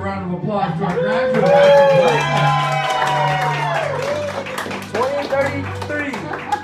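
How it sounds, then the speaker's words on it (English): Family audience clapping and cheering for graduates at a child's graduation ceremony, scattered claps and whoops mixed with an adult voice and a singing child close by. "let's give a round of applause to our graduates"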